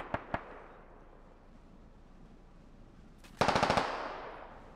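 Gunfire in the tactical shooter game Squad: two sharp single shots early, then after a quiet stretch a rapid automatic burst of about eight loud rounds with a ringing tail.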